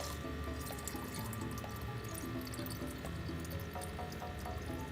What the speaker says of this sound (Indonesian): di sini air ini akan kita masukkan ke jirigen